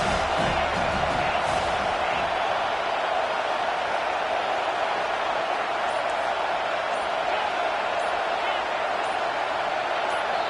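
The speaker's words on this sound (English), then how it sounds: "And with this place rocking, the crowd forces a false start." Roaring stadium crowd in the Madden 25 football video game, a dense, constant wash of cheering noise at steady loudness, with a commentator speaking over it.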